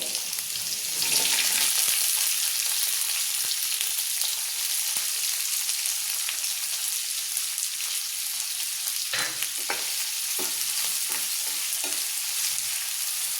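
Capsicum, carrots and beans stir-fry in a pan for veg Manchurian, a steady loud sizzle running throughout with occasional scraping stirs near the end.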